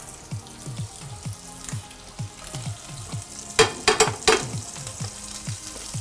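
Butter crackles and sizzles in a frying pan, a soft steady fry with rhythmic scraping stirs and a brief cluster of louder clatters midway.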